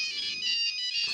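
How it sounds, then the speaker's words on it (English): A mobile phone ringtone plays alone, a bright electronic melody of high repeating tones sounding steadily and fairly loud for about a second. "there was one thing you could do on a phone that people don't really do today, and that was having a cool ringtone"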